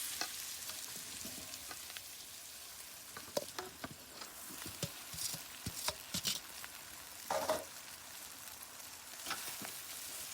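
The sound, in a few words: mixing chowmein in a pan on a clay stove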